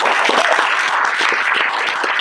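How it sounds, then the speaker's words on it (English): A live audience at a circus-themed reading applauds steadily, a dense continuous wash of many hands clapping at close range, loud and sustained from start to finish with no voices over it. "let's have another round of applause"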